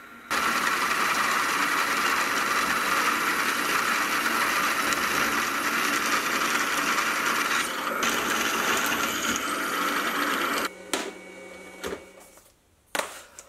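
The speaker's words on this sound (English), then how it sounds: "I'll first start off by pilot drilling up to 13 millimeters." A loud, steady mechanical whine and grinding of a drill running continuously as it pilot-drills a hole up to 13 millimetres in metal, then stopping with some clattering and rattling at the end.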